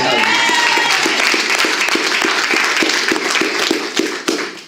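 A church congregation applauds the Lord, loud sustained clapping from a crowd filling the room, rapid and dense throughout before thinning slightly at the end.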